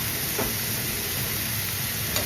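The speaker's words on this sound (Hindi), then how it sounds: "हल्का सा लाइट ब्राउन हो गया तो इसमें परवल मैं डाल रही हूँ, और साथ साथ ही इसमें नमक भी ऐड कर देंगे।" Chopped pointed gourd (parwal) fries in a pan with onion and green chilies, giving a dense, steady close sizzle with faint stirring clatter and no voices.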